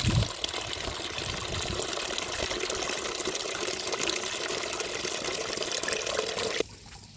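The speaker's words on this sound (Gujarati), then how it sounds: "હજી આપણે 5-6 લીટર આમાં પાણી ઉમેરી દઈએ" Water pours steadily into a pesticide mixing tank, a continuous splashing rush lasting several seconds before stopping abruptly near the end.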